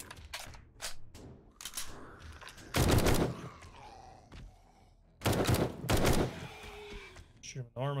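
Gunfire in 7 Days to Die, two loud bursts of rapid rifle shots separated by quieter gaps, with someone talking in between.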